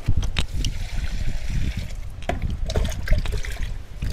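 Water pours steadily onto soil around a newly planted Araucaria in a pot on a terrace, a continuous close trickle and splash with a few brighter drips.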